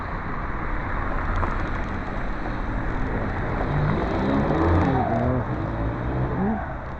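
A car's engine revs hard while its wheels spin, the rising, strained engine note swelling over steady loud road and street noise, close by and continuous.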